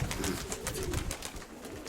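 Pigeons cooing close by in a keeper's loft of pedigree pigeons, soft repeated low coos with fluttery rustling, no voices.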